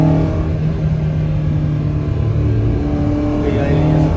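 A car with a fully built BP engine swap and individual throttles drones steadily and loudly from inside the cabin while downshifting, with people talking over it.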